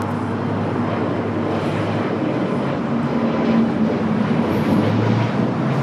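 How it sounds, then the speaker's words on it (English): An Airbus A380 departing LAX, a loud, continuous, far-off jet engine roar that holds steady throughout with no talk over it. "The A380 Super heading down to 24 left"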